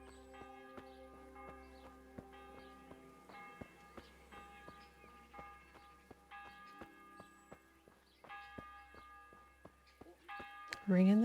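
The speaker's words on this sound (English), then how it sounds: "Ringing the bell." Bell ringing in the video game Kingdom Come: Deliverance sounds as repeated clear metallic tones with lingering ringing overtones, fairly soft and spread across the clip, with a person speaking quietly at times.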